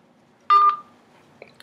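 A phone keypad dialing tone on a mobile call sounds once as a short, loud electronic beep, followed by near silence and a faint blip.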